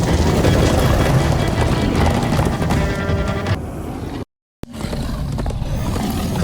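Loud, dense rumble of galloping horses with roaring, neighing cries from the Minecraft Story Mode soundtrack, cut by a sudden brief silence before the noise resumes.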